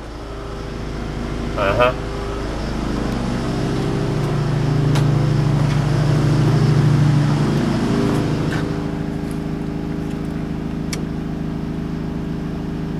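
A Fluid Film compressor's fuel-injected engine is cranked up and settles to a fast idle, a steady close droning hum that rises and eases, with a brief voice and a clank early on.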